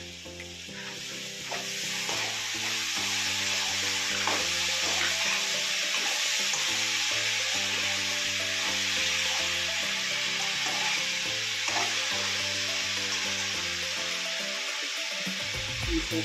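Tomato pieces fry in a pan for a brinjal and raw prawn curry, a loud steady sizzle and crackle continuing throughout, with background music playing underneath.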